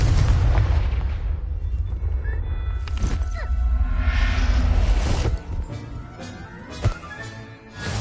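Explosive blast from the Confringo spell in the video game Hogwarts Legacy, a loud booming burst over dense game rumble, with further impacts and crackles trailing off afterward.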